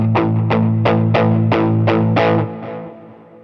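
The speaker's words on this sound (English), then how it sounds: "Palm muting is just your palm resting on the bridge and then picking the notes." Seven palm-muted picks on a distorted electric guitar, palm resting on the bridge, give short chugging notes in a steady even rhythm, loud and close, before the last one fades out.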